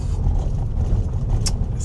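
Underpowered gasoline Toyota car straining uphill on a narrow road near Pai, Thailand, a steady low engine drone heard from inside the cabin, loud and continuous with no talk.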